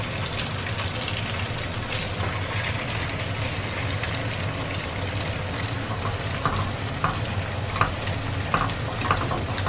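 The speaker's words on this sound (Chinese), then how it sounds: "现在他正在煎午餐肉" Luncheon meat frying in a pan makes a continuous close sizzle with scattered pops and crackles over a low background hum, with no talk.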